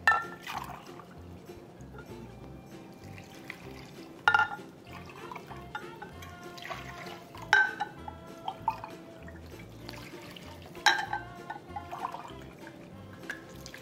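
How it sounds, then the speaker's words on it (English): Water pours and splashes into a pot of Spam stew in several bursts, with dripping between them, close and moderately loud without speech. "we'll just add our water and boil"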